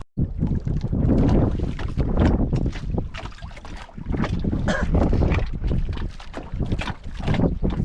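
A small boat out on open water, likely off the Philippine coast, with steady wind buffeting the microphone and water noise running throughout, loud and close, with no clear voices over it.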